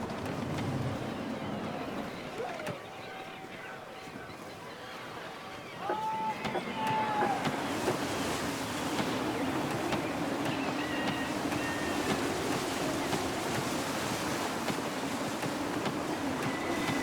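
Sailing ship on a gusty, windy sea in Assassin's Creed III, a continuous rushing of wind and water that swells louder midway and holds steady, with voices speaking over it.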